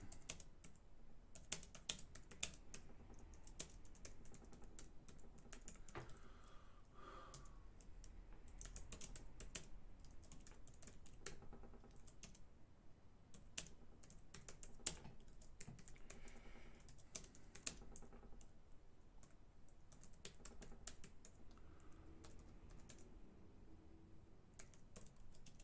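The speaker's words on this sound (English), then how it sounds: "I'm typing" Quiet, irregular clatter of fingers typing on a computer keyboard, bursts of close keystrokes with short pauses, running on steadily without any voices.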